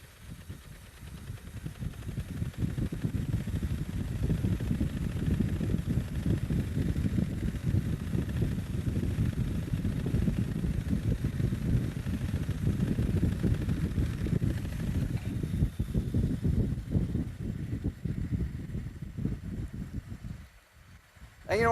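A gyroscope demonstration wheel is spun up, producing a low, fluttering whir that rises and holds steadily for about twenty seconds before dropping off, with handling noise at the end.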